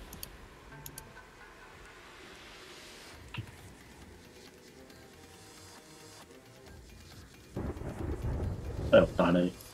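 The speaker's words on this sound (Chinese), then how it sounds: "哎呦，打雷！" A low, rumbling thunder sound effect plays in the video game Terraria, starting faint and swelling louder near the end, with quieter game noises before it.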